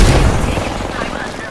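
Rapid automatic gunfire and booming weapon shots in the Apex Legends battle royale shooter, loud and dense from the start and tapering slightly, with no talk over it.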